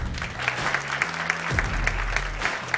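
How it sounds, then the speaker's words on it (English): Sparse, tepid applause from an audience at the Global Poker Awards ceremony: scattered individual claps build into a thin, moderate patter heard at a distance, with no cheering. "we're supposed to be clapping"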